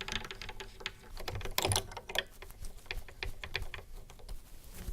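An acoustic guitar having its strings slackened with a string winder, heard as rapid, close, light clicking and ratcheting ticks in an irregular stream, quiet and without speech.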